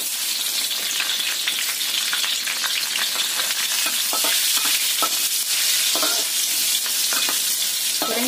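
Chili peppers fry in hot oil in a pan with a dense, steady sizzle and crackle, loud and close, with occasional stirring clicks and no voices.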